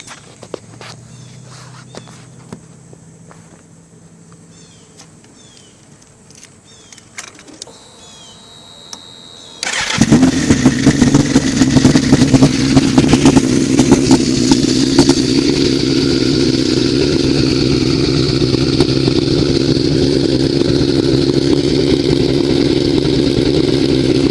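After some quiet shuffling and clicks, a 2006 Suzuki GSX-R1000 engine fires up from cold and runs loudly and steadily nearby, a rough buzzing idle with occasional revs.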